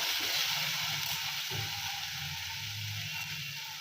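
Onion greens, onions and capsicum stir-fried over full gas for paneer chilli, giving a steady close sizzle with soft scraping stir strokes throughout.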